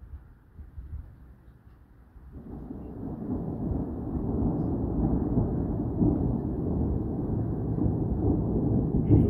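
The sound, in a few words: strong thunderstorm thunder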